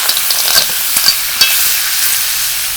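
Boiled remundek shoots being stir-fried with snails sizzle loudly and close, with a few sharp scraping stirs over a steady hiss and no voices.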